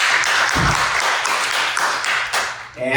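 Roughly forty people in a city charter reform commission meeting room applaud together, a dense, steady wash of clapping that stays fairly loud throughout and tapers off at the end.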